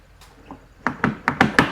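The newly repaired rear door latch on a Porsche Cayenne 958 closes with a quick series of five sharp, close clunks, preceded by a few fainter taps, with no talking.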